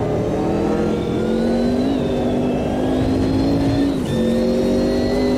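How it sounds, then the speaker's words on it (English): A Porsche race car engine in the racing game Automobilista 2 at Monza runs loud and steady, its pitch climbing and dropping sharply at quick gear shifts near two and four seconds, with no talking. "Oh, that Porsche sounds incredible on the tail shifts."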